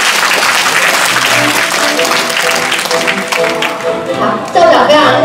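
Warm applause from a concert audience at a community college event in Keelung, welcoming the principal on stage; dense continuous clapping fills the space, with a brief surge near the end and background music tones underneath.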